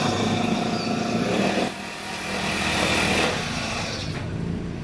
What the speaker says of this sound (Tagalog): Heavy duty na grass cutter, 4 stroke. Kapyesa po siya ng original na Honda GX35.